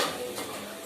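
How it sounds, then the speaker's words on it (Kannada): Raw masala sizzles in hot oil in a pan while being stirred, a close, steady crackling hiss with faint scraping and no talk. "ಇವಾಗ ಮಸಾಲೆ ಹಾಕೊಂಡಿದ್ದೀನಿ, ಫ್ರೈ ಮಾಡ್ಕೊತೀನಿ."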